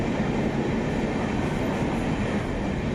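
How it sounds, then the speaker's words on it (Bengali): Amrit Bharat Express, the 20610 train to New Jalpaiguri, rumbles steadily at Dankuni Junction station, a dense, continuous rolling roar of wheels and carriages heard up close with no talk over it. "এখান থেকে আমরা 20610 নিউ জলপাইগুড়ি অমৃত ভারত এক্সপ্রেসে করে যাব এনজেপি স্টেশনে।"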